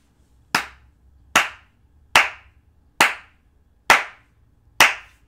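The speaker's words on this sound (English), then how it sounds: "You want a fucking hand clap?" Six slow, deliberate hand claps, loud and close, evenly spaced about a second apart with silence between each sharp smack.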